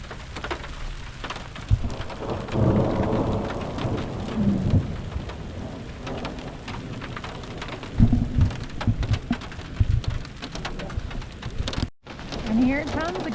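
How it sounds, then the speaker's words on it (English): Thunderstorm in the Lost Creek Wilderness and Eleven Mile Canyon area of Colorado, with steady rain drumming nearby and several rolling thunder rumbles swelling and fading, a sharp break near the end before the downpour resumes. "Looks like it's starting to let up, but the thunder is still going."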